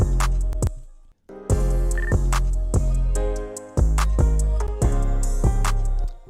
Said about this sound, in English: And then here's the other drop.